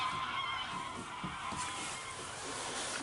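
Geese honk repeatedly around a boat on the Norfolk Broads in October, a loose run of calls set against a steady wash of background noise.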